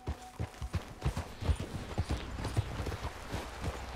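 Horse hooves clip-clopping in Red Dead Redemption II, a steady, moderately loud rhythmic trot of sharp thuds heard alone without talk.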